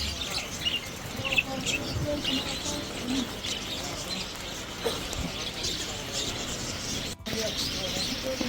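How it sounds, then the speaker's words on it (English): Birds chirping and cooing at a bird market in Kabul, scattered tweets and coos heard at moderate distance under a constant crowd murmur, with people talking over them. "The bird market."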